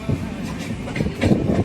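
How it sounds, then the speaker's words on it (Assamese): A passenger train bound for Goa runs along the rails, giving a close, steady low rumble and rattle from inside the carriage, with slight surges toward the end. "আমি এইখন ট্ৰেইনত আহিছোঁ"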